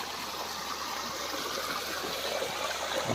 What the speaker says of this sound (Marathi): आमच्याच नदीचं पाणी मळे नदीचं पाणी